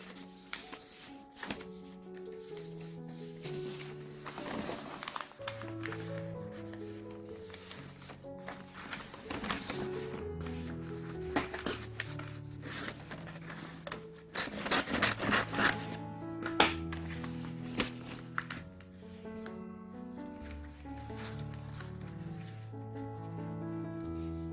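Sheets of hanji paper being folded and cut for a hexagonal pencil holder, giving soft rubbing, creasing and rasping scrapes close by, with music playing throughout.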